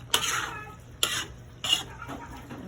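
Pork cubes and liver for afritada stirred in a cooking pan, three distinct scraping strokes over a low simmering sizzle, close and fairly soft.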